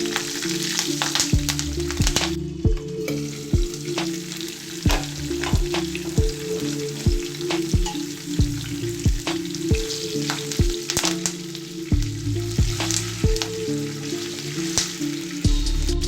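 A tempering of seeds, green and dried red chilies, ginger-garlic pieces and curry leaves fries in hot oil, with a constant crackling sizzle and frequent sharp pops and spoon taps throughout.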